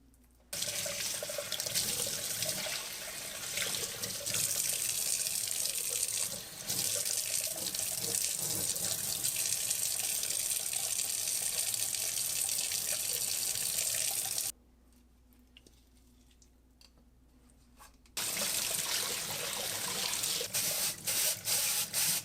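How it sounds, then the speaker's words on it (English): Tap water running steadily into a sink as a Kuvings EV0820 slow juicer bowl is rinsed, a loud continuous splashing stream that stops briefly for a few seconds and then resumes. "Rinsing the bowl out was easy."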